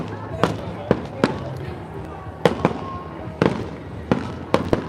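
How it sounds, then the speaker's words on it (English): Fireworks pop and bang at a nighttime beach festival, a series of sharp, fairly distant bursts at irregular intervals over a murmuring background, with voices talking nearby. "so we can try to keep those beautiful fireworks in the background"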